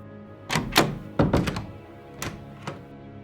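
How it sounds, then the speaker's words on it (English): An interior door shuts with a muffled thunk and a soft latch click, a few close, low knocks and taps spread over a few seconds in otherwise quiet surroundings. "then a soft click as the door closed"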